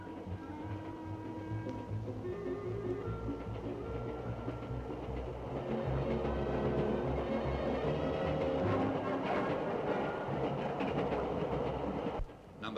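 The LMS diesel-electric prototype locomotive No. 10000 rolls along with a steady rumble and rhythmic clickety-clack of wheels on rail joints, faint and even across the clip, with a slight swell near the end.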